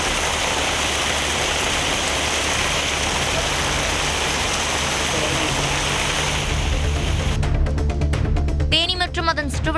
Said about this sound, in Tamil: இதேபோல் தொண்டாமுத்தூர் மற்றும் அதன் சுற்றுவட்டார பகுதிகளிலும் கனமழை வெளுத்து வாங்கியது.